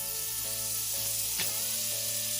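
Grilled cheese sandwich frying in butter in a pan, a steady close sizzle with crackling bubbles running throughout, one brief louder scrape or clatter near the middle.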